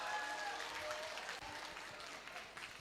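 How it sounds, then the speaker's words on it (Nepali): Audience applause for the top five finalists at the Mr. and Miss Tharu 2022 grand finale, a steady, fairly faint wash of many hands clapping that continues without a break. "सो एकचोटि उहाँहरूको लागि जोरदार ताली बजाइदिनु न अनुरोध गर्न चाहन्छु।"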